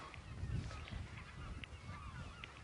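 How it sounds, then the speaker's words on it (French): Gulls calling on Cézembre island, off the Brittany coast: a few faint, distant honking cries scattered over steady wind and open-air noise. "Là, ouais, ça c'est un goéland brun."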